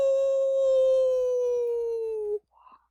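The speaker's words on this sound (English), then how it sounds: "Is that a wolf howling? Way off in the distance?" A single long wolf howl in quiet mountains, a sustained clear tone that slowly falls and then cuts off, followed by a brief soft voiced sound.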